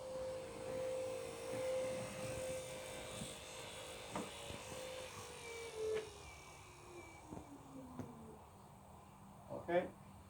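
An electric trolling motor on a kayak gives a faint, thin, steady whine that slides lower in pitch partway through. Quiet rustles and light knocks sit around it.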